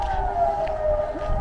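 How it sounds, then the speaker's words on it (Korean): A nationwide civil defense siren test in Switzerland, heard outdoors on a walk: a steady, sustained siren tone drones on without a break, moderately loud against faint street rumble. "오늘 전국적으로 사이렌 테스트 하는 날이라고 나와 있네요."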